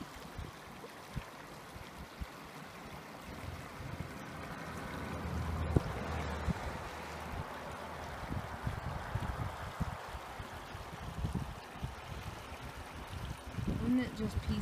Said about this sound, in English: The brook is running